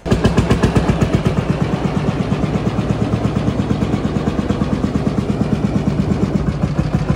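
An old Ursus C45 tractor engine runs steadily close by, a loud, evenly pulsing rapid thump that repeats without a break and with no voices.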